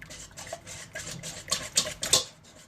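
A whisk stirring cake batter made with sweetened condensed milk, a soft rhythmic swishing and scraping against a bowl, repeating about twice a second, close and quiet with no speech.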